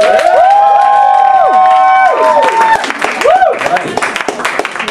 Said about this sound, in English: Jon Goode, everyone give him a massive round of applause, please.